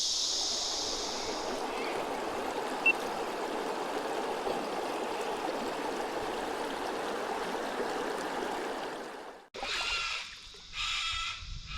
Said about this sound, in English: Being so low, it's just a lot of rapids.